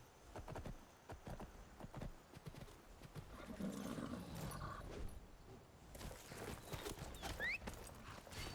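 Horse hooves clip-clopping with snorts and a whinny from a horse in Skyrim during a giant's attack on a farm, irregular steps over a low, busy game soundscape.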